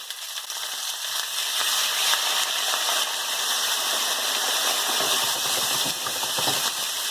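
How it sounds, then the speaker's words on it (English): Shallots and Shaoxing wine hitting a hot wok in a Hong Kong braised pig's feet stir-fry, giving a loud, steady hiss and crackle that sizzles without break and with no talking. "So now I'm going to throw in a shallot. And also the seltzer wine."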